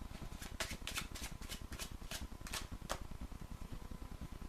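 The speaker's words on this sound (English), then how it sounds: "Let's start off by shuffling the cards." A deck of playing cards is shuffled by a magician, giving a rapid, even riffling patter with sharper snaps at intervals, close and clear with no voice.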